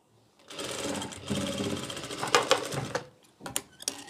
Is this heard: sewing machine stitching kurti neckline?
yes